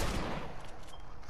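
A single loud gunshot in Fortnite, a sharp close blast at the start whose broad rumbling tail fades over about a second.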